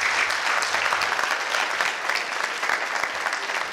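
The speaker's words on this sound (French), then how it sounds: "je vous demande d'applaudir les jeunes" An audience at a trophy ceremony applauds the young award winners, dense sustained clapping from a crowded room, loud and steady throughout, with no voices standing out.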